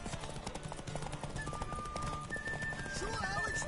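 A horse gallops in the video game The Witcher 3, with quick rhythmic hoofbeats and a whinny, quiet beneath game voices speaking throughout.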